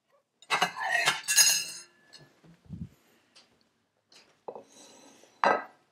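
A plate set down on a kitchen counter during waffle making gives a cluster of bright clinks near the start, followed by a few quieter knocks and one last sharp clink.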